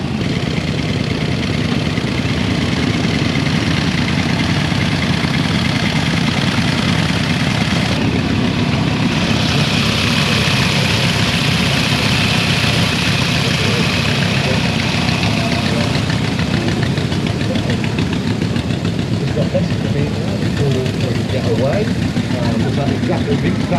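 Vintage motorcycles at the Banbury Run in 2024, engines idling in a steady loud low rumble throughout, with voices talking over them.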